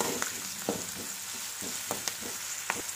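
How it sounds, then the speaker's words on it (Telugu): Onions with ginger-garlic paste and curry leaves fry steadily in a pan for a brinjal-tomato curry, a continuous close sizzle broken by several sharp scrapes and clinks of a stirring spoon. "ఆ తర్వాత అల్లం వెల్లుల్లి పేస్ట్ వేసి పచ్చివాసన పోయేంత వరకు ఈ ఉల్లిపాయ ముక్కలు దీనిని ఫ్రై చేసుకోవాలి"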